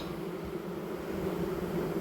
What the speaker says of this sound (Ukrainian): Ну тут бачимо, бджоли